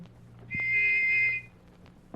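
A single whistle blast rings out clear and steady for about a second, standing alone against quiet background with a faint low hum and small clicks.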